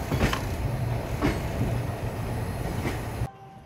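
The Howrah–Chakradharpur Bokaro Express passenger train rumbles steadily along the rails after leaving Kharagpur, with rhythmic clacks of wheels over joints, loud and close, cutting off abruptly near the end.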